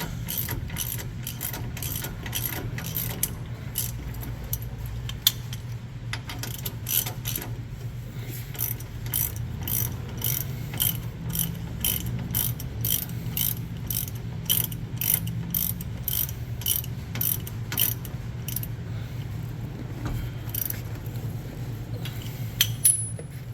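A ratchet clicks rapidly in repeated bursts while a bolt is tightened on a KING steering stabilizer being installed on an Ineos Grenadier, close and crisp over a low background hum.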